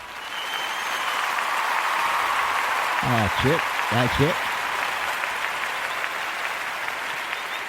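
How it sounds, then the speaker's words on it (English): Audience applause at a talk or presentation, a steady crowd clapping at moderate volume throughout, with a voice briefly speaking over it midway. "He really needs to be applauded"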